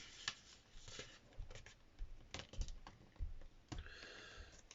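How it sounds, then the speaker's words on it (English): Paper folded into an origami hat gives off light crackling taps and rustles in irregular bursts, close up and fairly quiet, with no speech. "We're going to fold the other side up."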